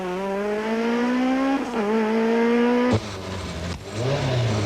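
A Volkswagen rally car powers through the Neisner town stage in 1994, its engine revving hard and climbing in pitch, dropping briefly at each gear change, then roaring again loudly and up close.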